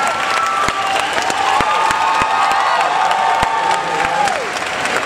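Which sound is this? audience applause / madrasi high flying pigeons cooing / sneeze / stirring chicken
audience applause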